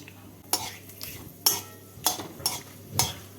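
Whole cumin, bay leaves, cardamom and cinnamon frying in hot oil while a spoon stirs the pan, a faint sizzle under five or six sharp metal scrapes and clinks at an uneven pace.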